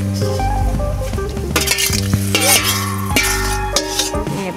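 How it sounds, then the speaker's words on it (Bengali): Duck curry with potatoes and papaya is stirred in a pan, the spoon scraping and clinking against metal in repeated strokes over a steady loud sizzle, close up. "এবার নাড়াচাড়া দিয়ে"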